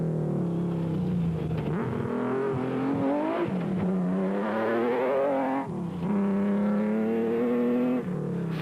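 Nissan race car engine, running rough with a fault, during the 2003 Toyota 1000 race, droning loudly and continuously with pitch rising and falling through gear changes.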